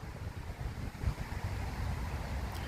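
Strong wind gusting around 45 mph buffets a Mavic Air 2 drone hovering at about 105 metres, producing a continuous low rumbling roar with surging pulses and no speech.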